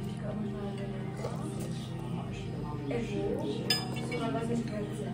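Glasses clinked together in a toast at a meal in Luhačovice, a light clink rising briefly over busy table chatter and cutlery noise, with people talking throughout.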